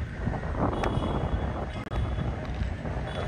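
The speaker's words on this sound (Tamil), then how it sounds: "ஸோ நல்ல விண்டு இருக்குது." Strong wind buffets the microphone at an outdoor cricket ground during a local tournament match, a loud, steady, rumbling roar that fills the whole stretch.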